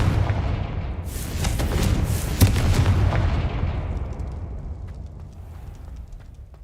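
A Confringo fire spell goes off in Hogwarts Legacy as a loud explosive blast, with a sharp burst near the start and a rumbling roar that slowly fades over several seconds. No voices.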